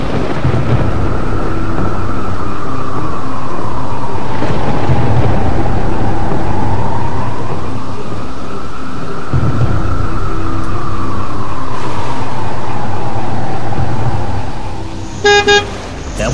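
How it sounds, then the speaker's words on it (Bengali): Heavy thunderstorm sound effect with steady roaring rain and rolling thunder, loud and continuous throughout, with a brief horn-like toot near the end. "বাইরে তুমুল ঝড় বৃষ্টি হচ্ছে"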